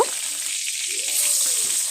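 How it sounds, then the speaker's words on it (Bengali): Cauliflower florets frying in hot oil give a steady, close, even sizzle with a bright hiss, and a faint stirring sound runs through it. There is no talk. "ফুলকপিটাও ভেজে নেব"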